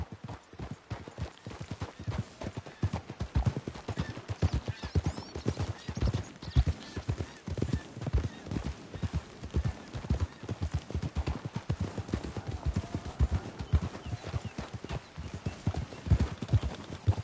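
Horses' hooves in Red Dead Redemption 2, a rapid, steady clip-clop of several animals trotting close by, continuing evenly throughout.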